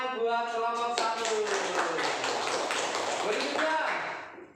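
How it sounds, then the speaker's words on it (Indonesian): Classroom group applauding a student presentation group at an Indonesian school, brisk clapping rising over a voice at the start and continuing steadily before tapering off. "tepuk tangan buat kelompok 1"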